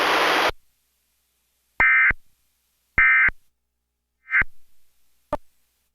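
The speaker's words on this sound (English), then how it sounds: "The following tones will conclude this test." Emergency Alert System test closing tones: a burst of harsh data noise followed by three short, loud electronic beeps spaced about a second apart and a final faint click, with silence between and no voices.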